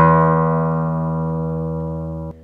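A single guitar string is plucked and rings out with a steady, clear tone that slowly fades, then is abruptly damped near the end, close and fairly loud with no speech.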